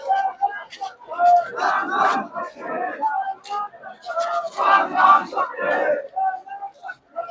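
A large funeral procession crowd for a legislator in Ballia, a loud surging mass of shouting and chanting voices that rise and fall in waves throughout.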